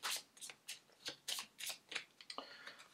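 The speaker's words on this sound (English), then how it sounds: "So it's now Harry's turn to shuffle." Cards for the Harry Potter Hogwarts Battle board game are shuffled by hand close up, giving a quick series of soft riffling flutters and slaps at an uneven rhythm, fairly faint, with no talking.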